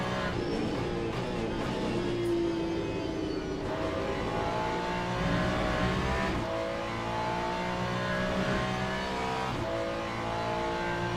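Hypercar race cars in Le Mans Ultimate approach and pass, heard as layered, sustained engine drones and revving whines that rise and shift steadily throughout, fairly loud with no talk over them.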